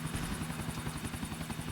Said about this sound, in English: You just fly a helicopter.